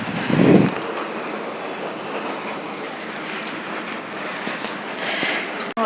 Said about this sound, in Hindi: तो ये देखिए फुल बारिश हो रही है, फुल स्पीड से